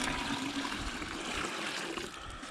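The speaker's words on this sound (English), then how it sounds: "This side's dripping real good." Maple sap drips from taps into a bucket at a sugar house, a soft steady trickle heard alone against faint outdoor background.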